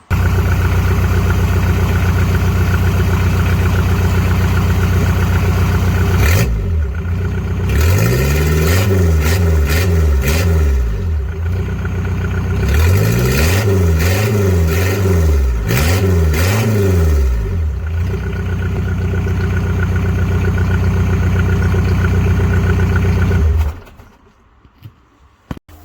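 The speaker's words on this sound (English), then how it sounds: "I need to at least start it to see what it sounds like with absolutely no exhaust on it" A VW Golf Mk3 diesel engine runs with its exhaust fully disconnected, a loud, steady raw clatter with several rising and falling revs in the middle before it cuts off abruptly near the end.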